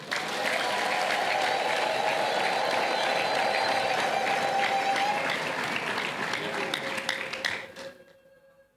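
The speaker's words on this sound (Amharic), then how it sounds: "አጨብጭቡልኝ" A congregation at a Christian testimony gathering claps loudly and continuously in a dense, steady wash of applause that thins and fades out near the end.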